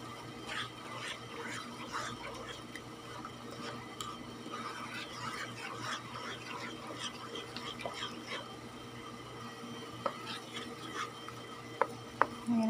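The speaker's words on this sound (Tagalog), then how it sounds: "Then, hahaluin lang natin siya, guys. Putunawin lang natin yung ating asukal." Sugar melting in a pan for a cassava cake roll is stirred steadily, giving soft continuous scraping and light clinks from close by for several seconds, with a couple of sharper knocks near the end.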